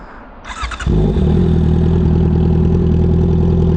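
A Honda CB650R E-Clutch motorcycle engine with an upgraded air filter starts with a brief rev, then settles into a loud, steady, throbbing idle close by, heard outdoors in an empty area.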